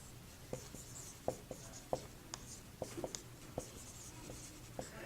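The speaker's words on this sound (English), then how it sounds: "I'm going to draw a big black box." A big black box being drawn by hand, with short scratchy strokes and light taps about every half second, quiet and close, with no talk.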